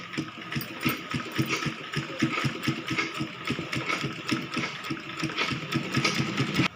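A sewing machine stitches the side seams of a kids' cloth bag made from an old pair of pants, its needle pulsing in a fast, steady, close-up rhythm throughout.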